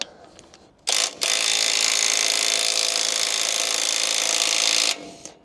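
A power tool whirs steadily for about four seconds close by, loosening bolts on a broken plough, starting with a short burst and ending abruptly.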